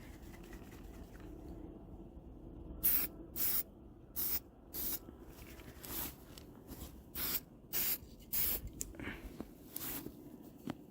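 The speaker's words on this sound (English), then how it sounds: "I'll spray that real quickly so you can see." Spray can spraying in short, sharp hissing bursts, about a dozen quick sprays in an irregular rhythm, close and clear over quiet background.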